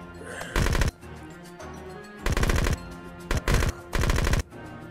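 A submachine gun in a Halo mod of the game Unturned fires four rapid bursts with short pauses between them, loud and close over a quieter game background.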